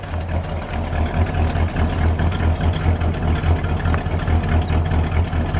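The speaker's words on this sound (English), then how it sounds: "Let me listen to it idle." The 413 V8 engine of a 1964 Chrysler 300K convertible idles steadily, a rumbling idle with a deep low throb, close and continuous, no talking over it.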